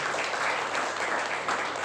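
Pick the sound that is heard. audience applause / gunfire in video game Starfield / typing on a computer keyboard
audience applause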